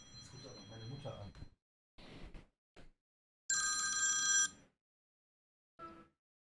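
A phone rings with an incoming call from a relative, giving bright electronic ring bursts between short spoken phrases and breaks of silence, fairly close and clear.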